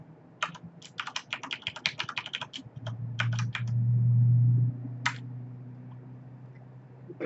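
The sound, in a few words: typing a password on a computer keyboard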